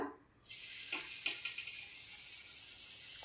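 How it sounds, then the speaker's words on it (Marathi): Karli fish slipped into hot oil for a Malvani-style fry sets off a steady, hissing sizzle that rises suddenly after a brief quiet moment and continues evenly, moderately close, with no talking. "इथे आपलं तेल पण छान गरम झालं आहे आता आपण करली मासा सोडूया"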